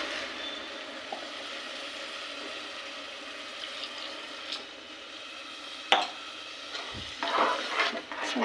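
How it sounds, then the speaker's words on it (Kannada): Water poured into a pot of coconut milk ghee rice: a steady sizzle and bubbling at first, then a clank and a pouring, splashing rush toward the end, close and moderate in volume. "ಇದಕ್ಕೆ ನಾನು 2 ಕಪ್ಪಷ್ಟು ನೀರನ್ನು ಸೇರಿಸ್ತಾ ಇದ್ದೀನಿ."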